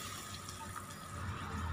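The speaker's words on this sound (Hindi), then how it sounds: "इसमें हम थोड़ा सा पानी डालेंगे" Water pours in a steady, faint splashing hiss into a pan of cooking tomatoes with cumin, garam masala, cashews and onion for paneer butter masala, brief and without talk.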